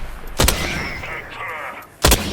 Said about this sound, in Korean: 사격 중.